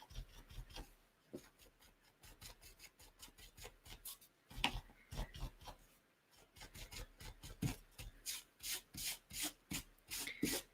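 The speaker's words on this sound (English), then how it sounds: "I'm wiping down here because I got a lot of overspray down there" A cloth or towel is rubbed in quick, rhythmic strokes over an art journal page to wipe off paint overspray, with brisk scrubbing bursts and short pauses, close and fairly quiet.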